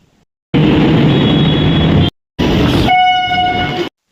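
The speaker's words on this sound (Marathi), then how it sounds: "चर्चगेट स्टेशन फास्ट ट्रेन आहे. Fast train पकडूया." A fast local train at Churchgate station roars loudly and close in two long bursts, the second carrying a sustained horn blast over the rumble of the carriages.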